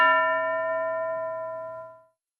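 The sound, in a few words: school bell ringing in a classroom activity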